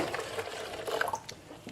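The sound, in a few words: water dripping through a soldiers' water filter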